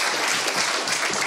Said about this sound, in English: We should all give her a round of applause for all of her hard work helping put this event together.